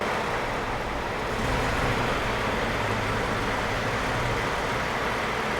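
A Toyota V6 engine idles steadily with bank 2 timing activated, a constant broadband rumble with a slight swell in the middle, close and fairly loud with no talking.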